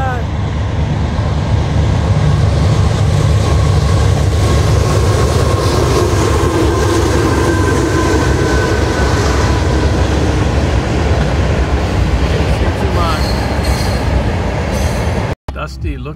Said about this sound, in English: Okay, we got a train coming.